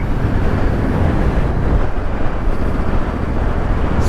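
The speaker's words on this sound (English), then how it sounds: "Very windy. I don't know if you're picking that up." Strong wind buffeting the microphone during an off-road bike ride in East Anglia, a heavy low rumble that gusts and roars continuously with no speech.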